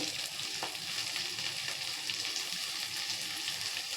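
Steady soft sizzle of potatoes sautéing in a pan with chopped coriander, a continuous hiss with faint scraping, no voices.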